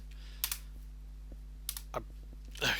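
A few scattered keystrokes clack on a computer keyboard, quiet and close, in short irregular taps against a low steady hum.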